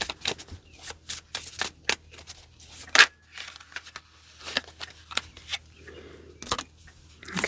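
Tarot cards are shuffled up close in quick, crisp riffling bursts separated by short pauses, with a few sharper snaps along the way.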